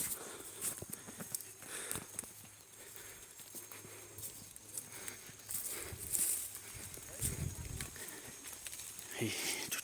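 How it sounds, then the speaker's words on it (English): Steady rain patters and hisses across the whole stretch, with a deep rumble of thunder swelling near the end, set against a busy outdoor background. "It's raining. So you can hear the thunder."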